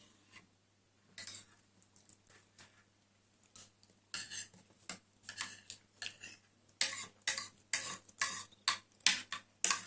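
A spoon cuts through a piece of strawberry jelly, making soft, sparse taps and scrapes at first that grow into a quicker run of louder, close clinks against the dish.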